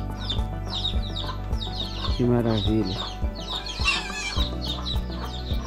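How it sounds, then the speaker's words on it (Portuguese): Chickens cluck and squawk in short agitated bursts while fighting, with sharp rhythmic pecking or tapping knocks and a scuffle of wing flaps nearby, and someone speaks briefly over them. "Olha aí, ó, as galinhas brigando."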